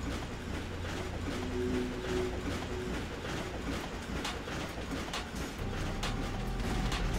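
Train ride aboard a vehicle on Planet Kerwan in the Ratchet & Clank video game: a steady rumbling rolling noise with faint rattles and mechanical clatter, continuous throughout at moderate level.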